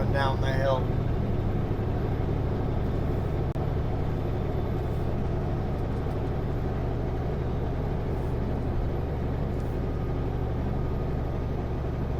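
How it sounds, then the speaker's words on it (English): A truck climbing a snowy hill in British Columbia, its engine a steady close drone throughout as a Sutco chip truck passes the other way, with someone talking over it. "Hey, there's a Sutco chip truck coming down the hill."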